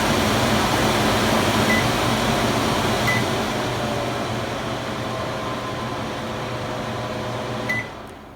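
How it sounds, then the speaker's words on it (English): A Samsung kitchen microwave oven's fan runs steadily, a loud, even whir with a low hum, holding constant for several seconds before easing off slightly at the end. "So here's the sound of the fan."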